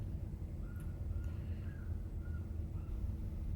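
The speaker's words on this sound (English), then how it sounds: "Oh, it's a bird." A crow cawing outdoors, a few short distant calls spread over a low rumbling background, faint and with no talk.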